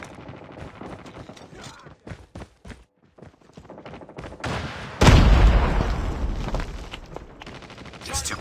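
In a shooter video game, rapid gunfire crackles in short bursts, then a loud blast hits and sustained shooting continues over game noise, with brief voice callouts now and then.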